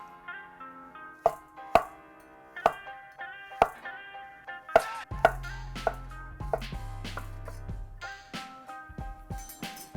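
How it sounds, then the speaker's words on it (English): Knife chopping through mushrooms on a cutting board for breakfast calzones, a series of crisp, close taps in an uneven rhythm that quickens toward the end, with a low hum entering midway. "Okay, that's our mushrooms sliced."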